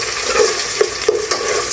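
Onion and garlic sautéing in a pan for pork adobo, a steady oily sizzle with a few soft scrapes of stirring, close and alone.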